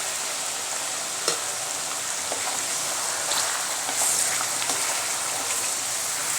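Undhiyo vegetables frying in oil in a kadhai over a high gas flame, a steady bright sizzle running throughout with a few faint clinks and stirring knocks.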